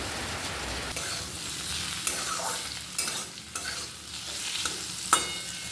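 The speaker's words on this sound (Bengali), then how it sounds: "আলু ভাজছি" Steady crackling sizzle of potatoes frying in a pan, with a few louder pops and spatters scattered throughout; no voices.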